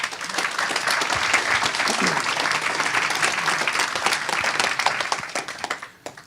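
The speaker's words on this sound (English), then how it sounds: "give yourselves a round of applause" Audience applause at a conference discussion panel, dense steady clapping from a large crowd lasting about six seconds before tapering off at the end.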